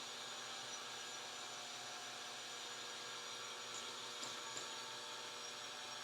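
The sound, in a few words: electric mixer mixing cupcake batter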